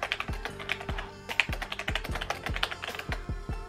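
Typing on a Logitech G Pro tenkeyless gaming keyboard: a steady run of about a dozen close, crisp key clacks with sharp thuds at a brisk, slightly uneven rhythm, with no talking.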